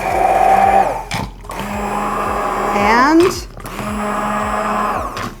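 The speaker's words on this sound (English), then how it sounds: "we're going to use our handy little immersion blender" Immersion blender whirring through sugar-free Worcestershire sauce, a loud steady motor whine in several bursts with brief pauses and pitch shifts, close up, with a voice briefly heard.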